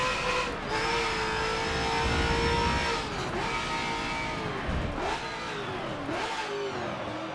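Mustang RTR Spec 5 engine in Forza Motorsport 7, revving hard through the gears with rising whine that drops at each shift, loud and close, several upshifts in succession.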